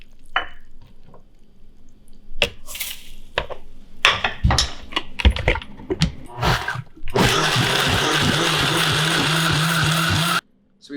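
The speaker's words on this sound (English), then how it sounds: "So we blended it down." A blender purees a sauce of rice wine vinegar, garlic, ginger and brown sugar. Clattering kitchen knocks come first, then the motor kicks in with a loud, steady roar for about three seconds and cuts off abruptly.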